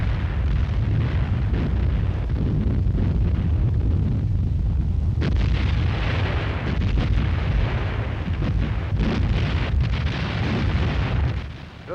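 A naval anti-aircraft barrage from 1942 British battleships escorting a supply convoy against Axis dive bombers rumbles loud and continuous, with dense overlapping booms and bursts of gunfire filling the air.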